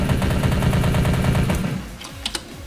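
Rapid continuous automatic fire with infinite ammo in the Kopatel Online video game, a fast even rattle of shots that cuts off after about two seconds, followed by a couple of sharp clicks.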